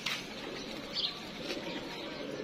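A pet pigeon coos softly nearby, low murmuring calls over a faint background, with a brief flutter and chirp-like sounds mixed in.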